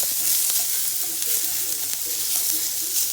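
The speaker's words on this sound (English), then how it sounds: "So mix that in and let it continue to cook" Kale and beets in teriyaki sauce sizzle steadily in a pan, a continuous close hiss with faint bubbling underneath and no talk.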